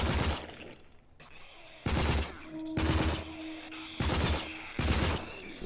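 Gunfire in the video game Rage, several loud bursts of rapid shots in short clusters with brief pauses between them.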